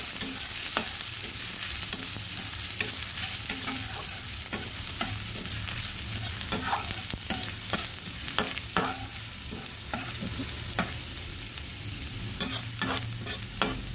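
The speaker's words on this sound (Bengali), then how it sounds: "পেঁয়াজটা ভালো করে নেড়ে ভেজে নেব" Chopped onions being stirred and fried in a pan, a constant close sizzle broken by frequent sharp scrapes and taps of the spatula, no voices.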